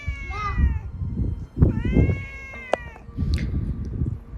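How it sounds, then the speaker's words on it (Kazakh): A cat meows several times up close, with long, drawn-out, wavering cries separated by brief pauses and a sharp click. "Бір түрлі мысықтың дауысы шығып тұр ғой."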